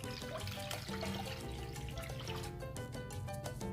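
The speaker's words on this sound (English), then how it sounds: "I'm going to be pouring 4 cups of water in here." Four cups of water poured into a pot on a stove set to high for cooking chicken, a steady trickling splash heard alone with no talking.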